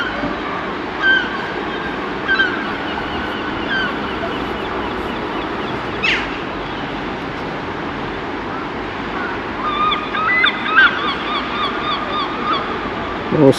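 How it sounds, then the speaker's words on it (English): Seagulls and ducks honk and call intermittently over a steady wash of wind and water, a few cries standing out near the start and more clustered later. "Seagulls and ducks are making an absolute nightmare to ledger."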